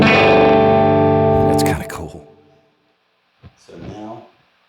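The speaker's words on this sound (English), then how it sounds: "this is the gate, so you can hear I just allowed much more noise to pass through" A ZVex Fuzz Probe fuzz pedal with its noise gate opened up: a loud, thick distorted guitar chord sustains, breaks off, and then a short burst of hiss and buzz comes through on its own before fading.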